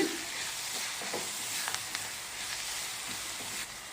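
Curry leaves frying in a pan with oil while a raw mango curry is cooked, a continuous close sizzle and hiss with a few sharp crackles and pops, and no voices.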